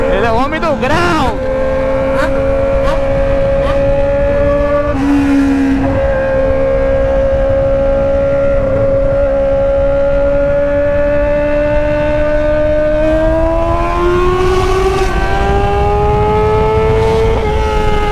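Honda Hornet motorcycle engine revving loud and close, pitch climbing and dropping as it shifts up through the gears, with short lulls between pulls and voices talking over it.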